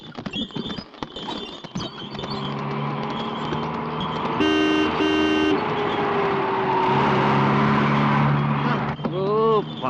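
A police vehicle passes nearby with its engine droning steadily and two short horn toots in the middle, while voices talk over the traffic noise.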